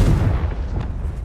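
A Confringo spell blast from Hogwarts Legacy, a short, heavy booming burst that is loud and close, decaying quickly within about a second.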